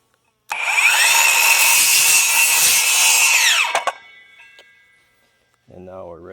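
A saw rasps through the wooden lug of a Langstroth bee frame in one continuous cut of about three seconds, loud and close, followed by quieter clicks and a voice at the end.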